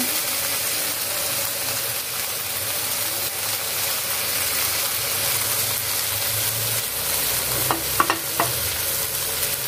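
Pieces of chicken shashlik sizzle in a pan with a continuous soft crackle, close by, and a couple of brief scraping clicks appear near the end.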